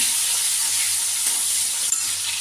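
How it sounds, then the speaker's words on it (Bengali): Chopped onion and bay leaves fry in a pan with a steady, close, even sizzle, joined by a faint stir or scrape near the end, with no talking. "এবার আমি পেঁয়াজ কুচিটা দিয়ে দিলাম তেজপাতা দিয়ে দিলাম"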